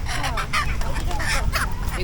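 Geese honk repeatedly in loud, uneven bursts close by, over a busy outdoor background murmur at a village poultry and fish market.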